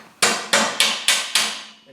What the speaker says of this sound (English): tap that white cap onto the crank